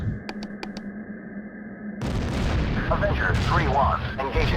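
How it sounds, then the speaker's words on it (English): Artillery fire in the flight simulator Falcon 4 Allied Force, during an F-16A MLU air strike on Ivangrad airbase: a dense, continuous rumble of booms and blasts sets in abruptly after a quieter stretch with a few sharp ticks, with speech in the background. "But the artillery is still active. It should be less accurate, but it's still there"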